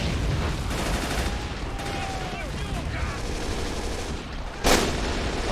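Artillery and gunfire in the World War II strategy game Men of War: Assault Squad 2, during a German bridge defense: dense rumbling battle noise with a sharp blast near the end, over a speaking voice.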